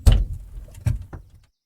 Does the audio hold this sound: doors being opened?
yes